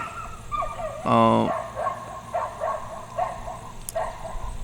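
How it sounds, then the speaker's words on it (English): A dog barks in the background with a brief burst of yips and whimpers near the start, then fainter barks through the rest of the clip over steady room noise. "you hear the dog in the background"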